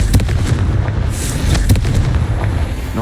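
A Confringo blast spell detonates in Hogwarts Legacy, a loud booming explosion followed by crackling bursts and rumbling aftershocks that fill the few seconds, with no talking.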